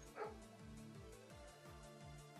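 Dog barking in a steady run of repeated yips and barks with a whimpering edge, fairly close and alone with no talk over it, while a quiet hum sits underneath.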